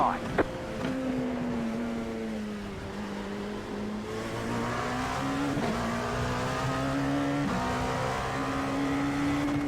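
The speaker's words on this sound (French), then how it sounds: "Avec le son de cette Porsche qui est magnifique." A Porsche GTE race car in the iRacing sim at Charlotte during an IMSA round, its engine droning and shifting pitch up and down as it accelerates and brakes, loud and continuous with no voices present.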